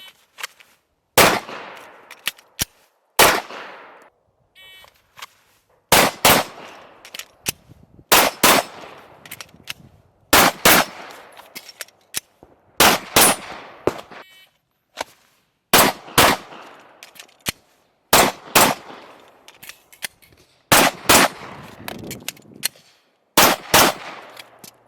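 Live pistol fire during reload drills at a shooting range: loud, close bursts of two or three rapid shots alternate with brief quiet gaps for magazine changes, repeating throughout without any talking.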